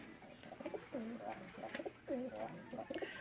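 Racing pigeons coo softly in repeated rolling phrases inside their loft after returning from a 72-kilometer flight, with light background noise.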